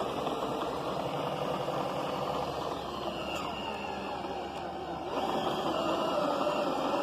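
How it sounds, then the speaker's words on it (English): A recumbent electric trike in second gear climbs a small embankment with a steady, close motor whine and hum over mechanical rumble, rising slightly in level toward the end, with no talking. "now we put it in second gear so we can climb a little bit of an embankment here"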